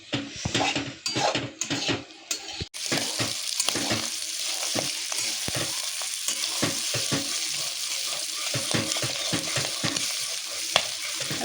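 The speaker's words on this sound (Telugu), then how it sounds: "చెట్పట్ అనేంత వరకు వేయించుకోవాలి కదా మంచిగా చెట్పట్ చెట్పట్ కావాలి" Goat tripe fries loudly in a pan, a continuous crackling sizzle with repeated clinks and scrapes of a spoon stirring against the metal, close and dense throughout.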